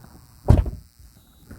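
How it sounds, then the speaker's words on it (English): A single solid thunk of a 2020 Hyundai Sonata car door being shut, close and brief, with a short resonant tail fading into quiet. "let's shut the door"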